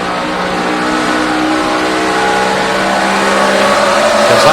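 NASCAR race cars at Dover in the 2012 FedEx 400 roar past in a loud, steady engine drone that holds high revs throughout, with no voices over it.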